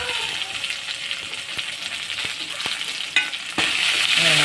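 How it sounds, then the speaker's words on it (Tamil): Onions sauté in hot oil with curry leaves for a red pumpkin and pea kootu, giving a steady close sizzle and crackle, with a few sharp clicks from stirring and a louder burst of frying near the end. "வெங்காயம் போட்டு கருவேப்பிலை போட்டு நல்லா வதங்கினோடனே வெங்காயம் போட்டு நல்லா வதக்கிக்கோங்க"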